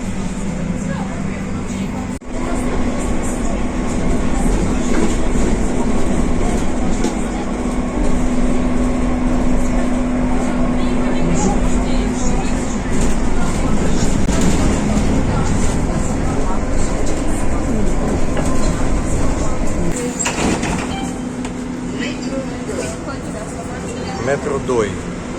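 Interior of a moving trolleybus between Kyiv and Chisinau, a steady loud rumble and whine of the ride with a brief clunk, while a person talks over it.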